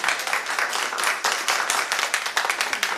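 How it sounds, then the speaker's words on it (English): An audience at a Springfield, Illinois city council committee meeting claps steadily, a dense close patter of many hands sustained throughout with no talk over it. "can you stop clapping while we're trying to?"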